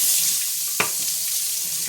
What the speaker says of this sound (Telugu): జస్ట్ వాటర్ స్ప్రే చేసి